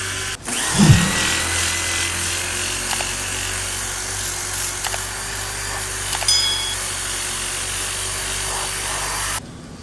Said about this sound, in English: I was able to go back over it with the rotary sander, and it makes things a lot easier.